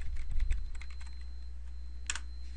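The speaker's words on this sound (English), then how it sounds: "let's type in an address" Quick, light keystrokes on a computer keyboard as an address is entered into a mapping site, a short flurry of clicks followed by a brief pause and a final tap.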